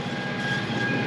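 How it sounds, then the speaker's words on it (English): Steady, loud engine drone from a tractor driving a rotary chopper through corn stalks, an unbroken mechanical roar with no pauses or voices. "we use this rotary chopper for a lot more than just mowing corn stalks"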